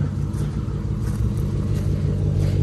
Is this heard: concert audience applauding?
no